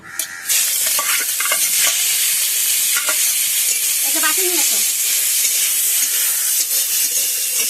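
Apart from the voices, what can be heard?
chicken frying in a pan with salt and turmeric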